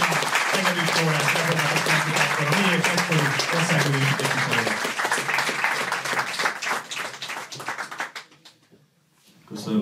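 An audience applauds at a memorial meeting of the MIÉP party in Hungary, a dense, sustained crowd clapping that fills the room and then dies away near the end as speech begins.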